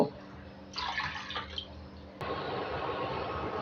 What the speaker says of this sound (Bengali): তার জন্য আমি তিন কাপ জল নেব জলটাকে এবার ফুটিয়ে নেব